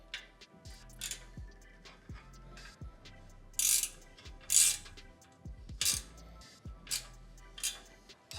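Nuts being snugged onto rock slider and tread plate hardware on a Rivian R1T or R1S, a series of light metallic clicks and ratcheting ticks with a few sharper clinks, close and fairly quiet.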